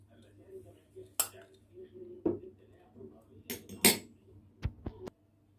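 A metal spoon clinks against a bowl while mixing a shrimp marinade of red pepper paste, garlic, salt and lemon, giving a few separate close taps and scrapes in a quiet kitchen.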